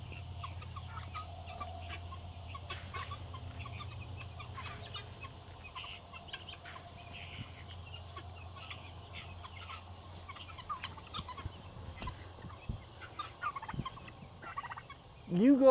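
Guinea fowl calling outdoors, a scattered series of faint, distant clucks and chattering calls over low background hum, growing louder and closer near the end.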